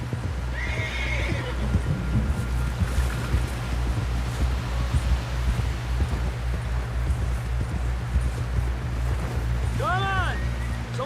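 A horse in Red Dead Redemption 2 whinnies loudly at the start and again near the end, over a steady clip-clop of hooves and a low rumbling background.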